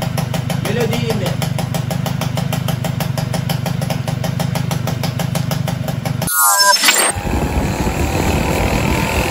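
A Peugeot 103 moped engine idles with a fast, even two-stroke putter for about six seconds, then cuts abruptly to a different scene where a person begins talking.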